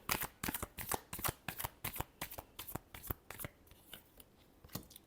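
Tarot cards being shuffled by hand, a quick run of crisp riffling flicks and taps, close and fairly quiet, slowing toward the end.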